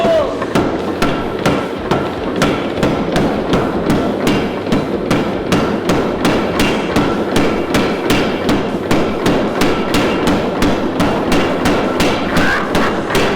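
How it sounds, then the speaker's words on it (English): Mechanical power hammer pounding in a fast, steady rhythm, loud and close, each strike a heavy metallic thud with a continuous machine rumble underneath. "This is the first time I've used a power hammer like this"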